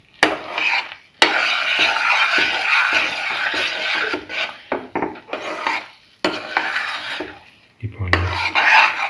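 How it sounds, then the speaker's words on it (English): A spoon scraping and knocking in a pan while clarified butter is mixed into coconut milk corn flour pudding, with repeated rhythmic metallic scrapes, close and fairly loud, and no talk. "Now put in another spoon of clarified butter. Mix it in."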